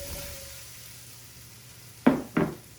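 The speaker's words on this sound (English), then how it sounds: "you can hear that the pot is still hot from the sizzle" Potatoes go into a hot Pampered Chef Rockcrok Dutch oven with two short, sharp sizzling bursts in quick succession after a near-silent stretch.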